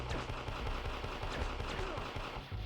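Gunfire from the arcade action game Elevator Action Returns, a steady loud stream of rapid shots and impacts that fills the whole stretch without pause.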